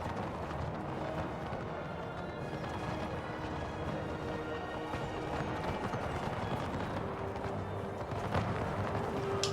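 Cavalry horses gallop across a battlefield in the strategy video game Empire 2 Total War, a steady rumbling clatter of hooves mixed with distant gunfire and battle noise, continuous and moderately loud throughout.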